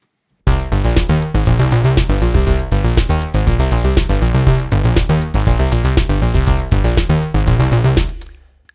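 Erica Synths DB-01 bassline synth soloed alongside a drum pattern, punchy repeating bass notes and steady kicks and hats looping loud and upfront with no voice.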